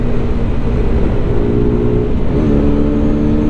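A QJ Motor SRK125 R motorcycle engine holds a loud, steady high-rev drone throughout, with its pitch shifting slightly partway through.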